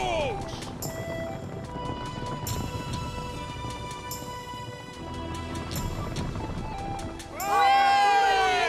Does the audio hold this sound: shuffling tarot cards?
no